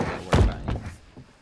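A heavy table slams into place as a barricade in The Quarry video game, one loud low thud followed by a second softer knock and a faint trailing clatter.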